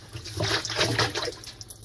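Water keeps running and trickling inside a Samsung top-loading washing machine stuck in an endless spin cycle, a soft steady gurgling flow heard close and fairly faint.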